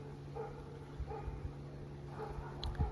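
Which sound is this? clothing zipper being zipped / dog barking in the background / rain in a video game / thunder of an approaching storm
dog barking in the background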